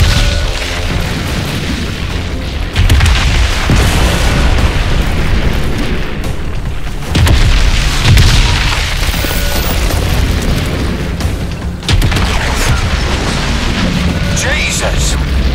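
Heavy weapon fire and big explosions in the video game Crysis 3: loud booming blasts recur across the clip, with rumbling bursts around the 3, 7 and 12 second marks over a dense, continuous battle din.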